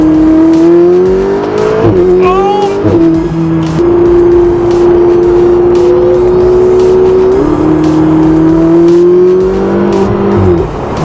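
A turbocharged Ferrari 488 Spyder engine roars loud and close, climbing in pitch through gear changes with brief dips between pulls, strong and continuous throughout.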